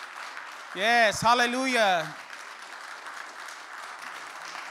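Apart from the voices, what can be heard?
congregation clapping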